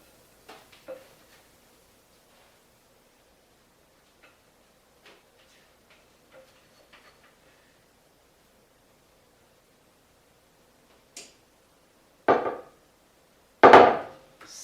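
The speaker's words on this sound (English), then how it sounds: "I'm going to scrape this spoon, get all the batter off of that spoon that I can" Spoon scraped against a loaf pan to remove beer bread batter, a few faint light taps early, then two louder close scraping clunks near the end amid otherwise near silence.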